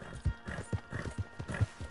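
A horse's hooves clop in a steady galloping rhythm in the Western video game Red Dead Online, fairly close and moderately loud, with a faint bed of ambient game sound behind.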